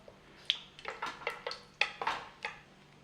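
A metal spoon stirring whole spices in oil and ghee in a pan, giving a series of sharp scraping clinks at an uneven pace, close and clear with no talk.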